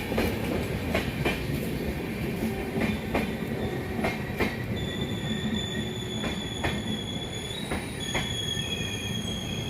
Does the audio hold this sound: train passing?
yes